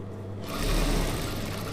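A sewing machine stitches a straight seam on a chudidhar, starting up after a brief pause and running in a steady, close, loud hum to the end.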